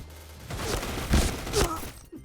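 Gunfire from the online shooter game Point Blank: dense bursts of rapid shots with heavier thumping blasts near the middle, loud and close, with no talk.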